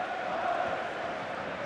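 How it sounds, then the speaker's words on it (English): A stadium crowd cheers in the FIFA 15 football video game, a dense, steady roar that sounds far off and sits under faint background noise without clear peaks. "And the crowd really enjoying it."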